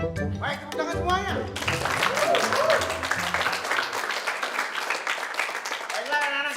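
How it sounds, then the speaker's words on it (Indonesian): Audience applause at a school event rises from a group of students after talk, a steady mass of clapping that carries on with voices and cheering mixed in. "Baik, tepuk tangan semuanya."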